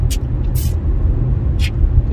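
A Sempati Scania bus rolls past on a Banda Aceh street, a loud, close low engine rumble with a few brief hissing bursts from the air brakes.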